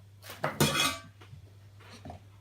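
Roughly chopped apple pieces tumble into a metal pot, a brief cluster of clanks and clatter near the start followed by a few softer knocks, with no talking.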